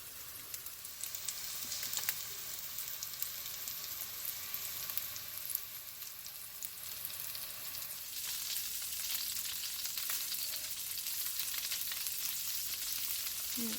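Meatballs sear in a stainless steel pan with a soft, continuous sizzle and crackle, a few light clinks early on, then a slightly fuller hiss after a shift partway through, fairly quiet with no voices.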